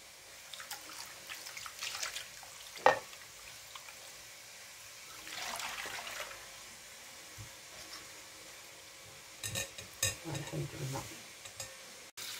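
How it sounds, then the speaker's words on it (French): Couscous grains are washed by hand in water, with soft swishing and stirring, a few sharper splashes and clinks, and quiet gaps between bursts of movement, faint and close. "On lave les grains de couscous."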